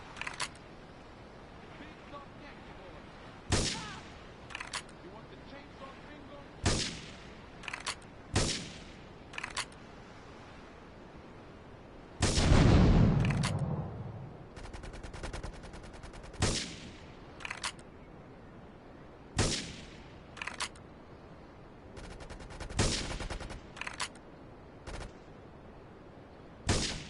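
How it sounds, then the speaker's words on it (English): Gunfire and explosions in the video game GTA 3: a series of sharp, separate shots at uneven intervals, with one heavier, longer blast partway through, heard against a quiet game background. "Investigate reports of gunfire and explosions."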